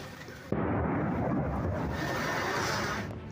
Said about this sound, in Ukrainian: Повітря навколо гримить від вибухів.